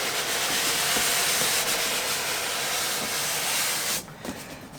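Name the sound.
suction sound while unboxing a Tweeterhead statue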